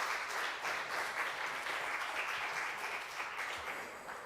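Audience applauding a worship leader at a service, sustained even clapping from a crowd, moderately distant and soft, gradually easing toward the end with no speech.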